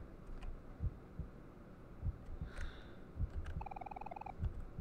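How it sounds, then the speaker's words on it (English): In the video game Omori, a heartbeat thumps alone as soft, low, evenly spaced double beats, with a brief higher chiming tone partway through. "I hear a heartbeat."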